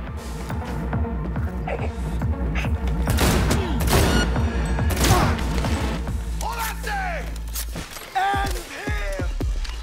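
Bursts of gunfire from combat in the video game Cyberpunk 2077, loud and repeated over about eight seconds, mixed with thuds, game effects and voices talking throughout.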